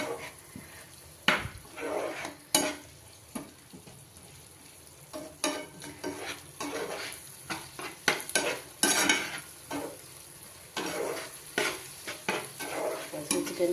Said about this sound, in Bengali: তারপরে আমি মশলাটা মিক্সটা দিয়ে দেবো, দিয়ে কষাতে থাকবো।